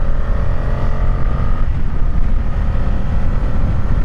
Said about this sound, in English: Clutchless gear changes down,